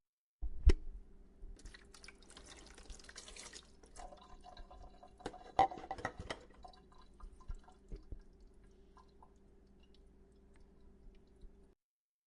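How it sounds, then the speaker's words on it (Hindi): Sparse drips and soft ticks from a kitchen fall at irregular intervals in a quiet room, some faint and a few sharper, with stretches of near silence between them. "पानी टपकने की आवाज आई।"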